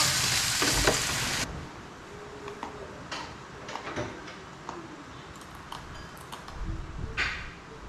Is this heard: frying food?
yes